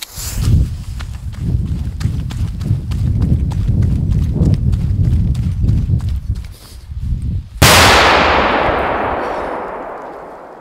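A Barracuda XXXL firecracker goes off in one sudden, very loud outdoor bang partway through, its sharp blast decaying into a long rolling echo, after a stretch of steady rumbling clatter.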